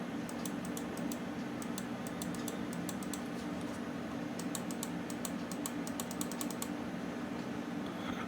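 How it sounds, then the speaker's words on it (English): Bursts of crisp, rapid left and right button clicks from an Aula SC680 wireless gaming mouse in quick clusters, close and dry, over a steady low hum. "Here is a quick sound test for the mouse 1 and mouse 2."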